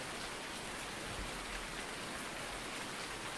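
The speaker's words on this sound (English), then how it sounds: "I hope you can hear me through the rain." Steady rain falls outdoors, a dense, even hiss of drops striking surfaces that continues unbroken and fairly close throughout, with no voices.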